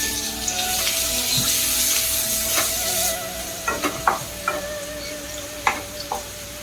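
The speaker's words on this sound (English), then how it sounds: "let's saute it for about 2 minutes till all the aroma is well released in the oil" Crushed ginger and garlic sauté in hot oil, a continuous sizzle broken by several sharp scraping and stirring knocks of a spatula against the pan, close and fairly loud.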